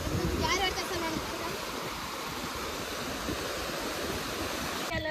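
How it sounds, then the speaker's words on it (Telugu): Gulaspur waterfalls roaring as a steady, faint broadband rush of falling water, with brief voices in the background. "ఇక్కడ వాటర్ ఫాల్స్ ఉన్నాయి చూడండి."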